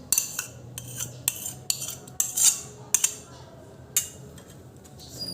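A spoon scrapes and clinks against a pot as steamed pumpkin is stirred into pudding batter off the heat, giving a series of sharp metallic taps spaced irregularly over a quiet background.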